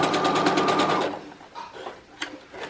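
A sewing machine runs a fast rhythmic burst while backstitching a skirt seam, then stops, leaving a few soft clicks and handling knocks afterward.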